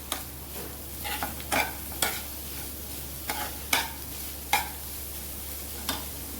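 A spoon stirs paneer and chopped coriander into a soya tikki mixture in a bowl, giving a series of soft, moist scraping strokes at a steady rhythm, close by, over a constant background hum.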